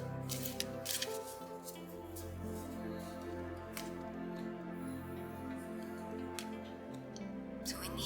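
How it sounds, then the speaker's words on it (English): Soft, steady riffling and shuffling of tarot cards, continuous and close, with a few crisp snaps of the deck and no talking. "Just shuffle this one for you"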